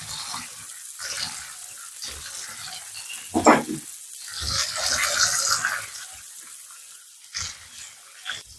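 Steaks sizzling and crackling in a hot pan, with bursts of spitting fat that swell and fade, close and fairly loud, with brief quieter gaps between the bursts.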